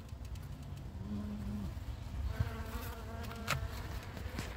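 Honey bees buzz steadily at a hive during autumn feeding and formic acid treatment, a dense continuous drone with individual bees' tones rising and falling nearby, plus occasional clicks of handling.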